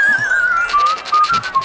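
A character in a SpongeBob cartoon whistles a clear melodic tune with a few gliding notes, alone and up close, with light tinkling sounds behind it.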